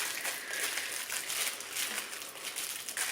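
Plastic packaging crinkles and crackles close up as it is worked open, in a continuous rustling stream with small bursts.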